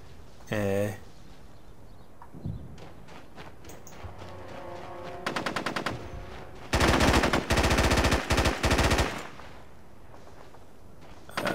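Bursts of automatic gunfire from the video game Socom 3 U.S. Navy Seals, with short rapid volleys and a longer sustained burst, loud and close, interspersed with single shots and quieter game sounds.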